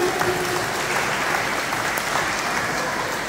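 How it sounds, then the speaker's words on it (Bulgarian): An audience at a dolphin show claps continuously, a dense and even burst of applause that stays loud throughout. "Аплодисменти за Любомира от Пловдив."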